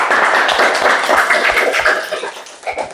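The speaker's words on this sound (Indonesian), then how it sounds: "kita kasih aplaus untuk kelompok 2." A classroom group claps for the second student group at a school in Indonesia. The clapping is close and steady and fades out over a few seconds.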